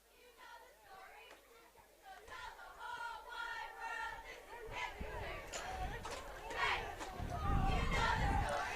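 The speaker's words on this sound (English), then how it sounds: "Listen to those cheerleaders cheer down there." Cheerleaders chant and shout from the sidelines of a high school American football semifinal, their rhythmic voices somewhat distant and building in loudness, mixed with crowd chatter and a nearby voice speaking.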